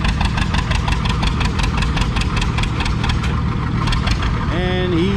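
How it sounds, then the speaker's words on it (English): A vintage John Deere 70 tractor engine pulling a weighted sled on a track, a loud close rhythmic chugging exhaust beat throughout, with a brief whistle-like tone near the end. "John Deere 70 moved up from 3 to 4 mile an hour. And he's back on the sled."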